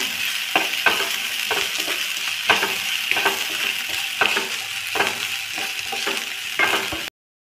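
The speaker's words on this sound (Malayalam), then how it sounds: "ഇനി ഇതിലേക്ക് ഒരു table spoon ginger garlic പേസ്റ്റാണ് add ചെയ്യുന്നത്" Crushed ginger-garlic sizzles and spits steadily in hot oil, with scattered sharp crackles and stirring clatters through the clip before it cuts to silence near the end.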